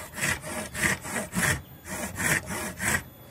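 A blacksmith's saw cutting with steady back-and-forth strokes, about seven rasping passes in a regular rhythm, close and clear with no talking.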